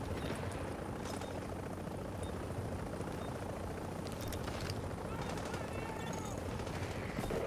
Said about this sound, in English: Chopper is inbound.